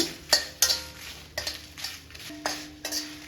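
Curry leaves dry roasting in a pan on medium heat while being stirred, with several sharp scraping clinks of a utensil against the pan over a faint crackle, close and fairly quiet.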